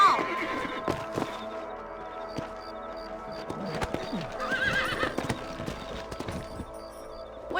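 Horses trot and clip-clop in the Red Dead Redemption video game, with several sharp hoof hits, a neigh, and a faint music bed beneath.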